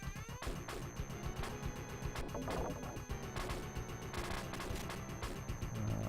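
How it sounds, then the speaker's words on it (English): Game gunfire blasting apart an electronics store in Alien Storm on the Mega Drive: a steady, loud run of crackling shots and smashing electronic crashes over about six seconds, with no voices. "Shooting up the electronics."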